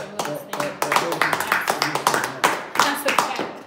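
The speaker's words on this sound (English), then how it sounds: "Let's get a clap on that." An audience claps in a burst of steady, fairly loud applause lasting a few seconds, with a voice briefly heard at the start.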